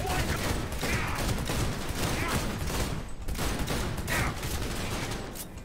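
Gunfire from the video game Cyberpunk 2077, dense rapid bursts of shots in an almost unbroken fusillade, loud and close, with a brief lull near the middle.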